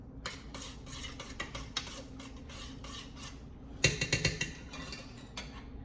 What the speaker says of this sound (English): A little bit of the red sauce popping up there. We're gonna go ahead and stir that in.